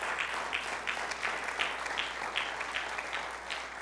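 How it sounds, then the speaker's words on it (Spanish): A church congregation claps in praise to Jesus during a sermon, producing a fairly faint, rhythmic applause with repeated pulses of clapping at a steady beat, heard from a distance. "Dale el aplauso de alabanza a Jesús"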